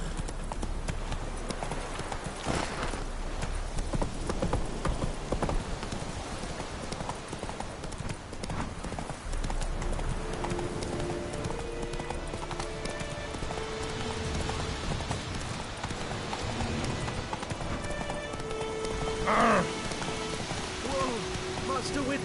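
Horse hooves gallop in The Witcher 3, a fast, continuous clatter up close over rain-like noise and outdoor game ambience, with a brief rise in intensity near the end.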